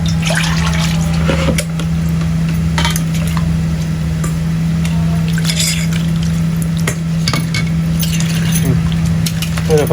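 Kakrol (spiny gourd) being washed by hand in water, steady splashing and sloshing with occasional clinks of a pot, loud and close over a constant low electrical hum.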